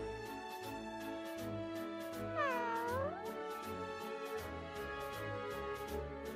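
A cat meows repeatedly at close range indoors, with one longer rising-and-falling wail in the middle among shorter cries, over a low background hum.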